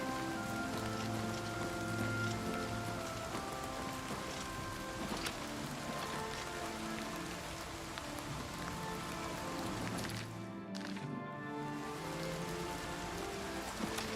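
Rain falling in a video game, a steady soft patter that carries on throughout over a quiet musical background, with a brief dip near the end.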